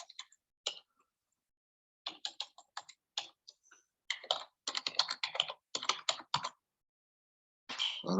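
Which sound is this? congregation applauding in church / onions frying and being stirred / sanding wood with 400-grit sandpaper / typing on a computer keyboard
typing on a computer keyboard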